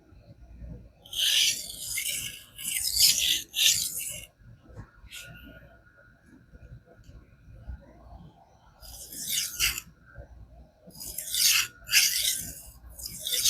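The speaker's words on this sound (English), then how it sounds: "this knife is basically deburring by itself on a 300 grit stone" A kitchen knife's edge scrapes across a 300 grit King whetstone in repeated rasping strokes, grouped in bursts with quiet pauses between them and heard up close.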